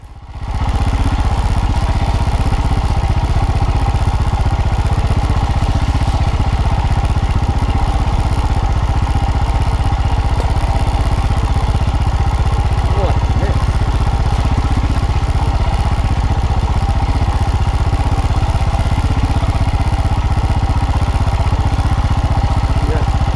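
A motorbike is ridden cautiously over slippery dirt ruts near a rustic Victorian township, its engine droning steadily and loudly throughout with rough clattering texture and no talk.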